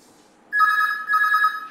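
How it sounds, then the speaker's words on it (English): A telephone rings with a bright electronic trill in two close, clear bursts after a short near-silent lead-in. "Okay, we'll take a phone call."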